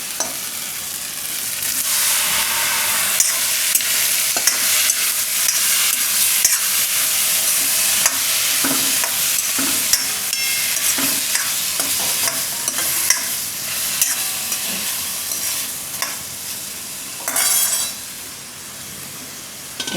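Tomatoes and beetroot cook in a pan for Gujarati tomato-beet soup. A continuous loud sizzle runs throughout with intermittent scraping stirs and clinks of a utensil, and no voices are heard.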